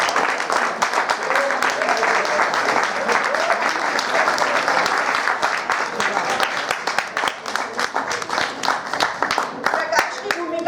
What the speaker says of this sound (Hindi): तालियां बजती है हमारे कलाकारों के लिए